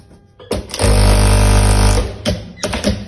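An industrial flat-bed sewing machine runs in one steady, loud burst of rapid stitching lasting about a second, with short bursts of stitching before and after it.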